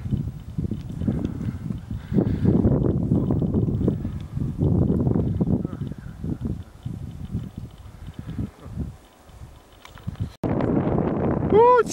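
Gusty wind buffets the microphone in low rumbling bursts while someone talks over it in Bulgarian outdoors near Karadzhov Kamak, the roar rising and falling through the clip.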